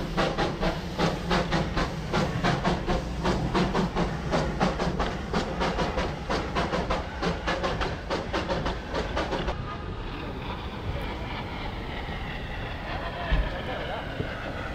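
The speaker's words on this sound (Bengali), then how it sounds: "কিছুক্ষণের মধ্যেই স্টিম ইঞ্জিনটা চলে এলো।" A Darjeeling toy train steam engine pulls into Ghum station with rapid, evenly spaced chuffs for about ten seconds, then settles into a softer steady steam hiss, all fairly close.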